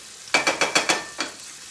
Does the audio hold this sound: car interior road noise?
no